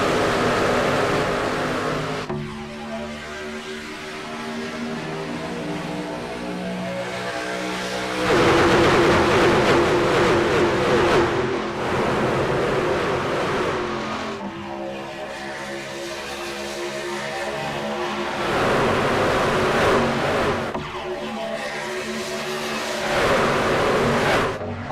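Racing truck engines roar around Talladega in the iRacing sim, a loud, dense pack drone that swells and fades in waves as trucks sweep past, with no talking over it.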